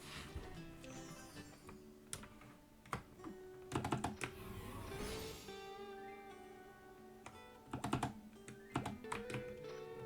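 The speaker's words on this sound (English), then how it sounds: "My microphone might also pick up the keyboard clacking" A computer keyboard clacks under steady typing, heard as rapid irregular key clicks with a few louder bursts over a faint background during a podcast recording.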